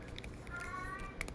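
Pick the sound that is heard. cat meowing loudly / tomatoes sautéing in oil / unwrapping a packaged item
cat meowing loudly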